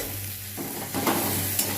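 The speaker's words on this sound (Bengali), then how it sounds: "পেঁয়াজগুলো দিয়ে দিয়েছি কড়াইয়ে" Chopped onions sizzle loudly in a wok while a spoon stirs them, with a low hum underneath and the frying swelling midway.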